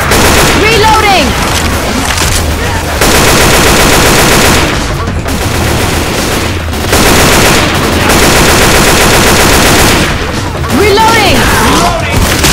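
Rapid video game gunfire in a chaotic firefight, bursts of automatic shots and booms in dense runs broken by short pauses, with players shouting over the action.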